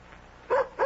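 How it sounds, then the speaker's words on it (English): A dog at the door gives two quick, close yips or barks in rapid succession. "that's Nikki at the door with my dog"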